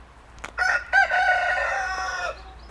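A single clear rooster crow, drawn out and fairly close, rings from a garden henhouse over a quiet background.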